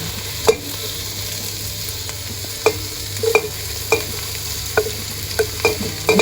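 Garlic sautéing with red and white onions in a pan for beef papaitan, a steady close sizzle punctuated by regular sharp spatula clicks and scrapes against the pan as it is stirred, no voices.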